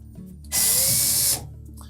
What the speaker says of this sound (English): Now it's better to take these 2 screws out first. Again, number 2 Phillips head screws.